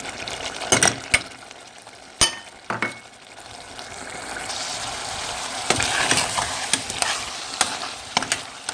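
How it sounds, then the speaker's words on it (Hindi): Potatoes and green lobia beans fry in a pan with a steady sizzle, while a spoon stirs them and clinks sharply against the metal now and then, close and alone. "अब इसको अच्छी तरह से हम भून लेंगे।"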